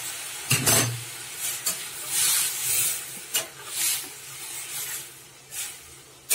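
Red lentils tipped into hot oil with tempered spices and reddened onions in a kadai, a loud sizzle burst followed by repeated scraping stirs and steady frying hiss, close and without voices.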